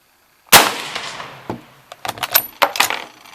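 An 1895 Chilean Mauser rifle fires a single hand-loaded 145 grain soft point round charged with IMR 4895: one sharp, loud close report with a decaying tail, followed by scattered clinks and handling noises.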